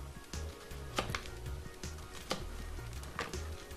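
A kitchen knife slices through an onion on a cutting board, making several sharp, irregularly spaced cuts, close and fairly quiet, over a low background hum.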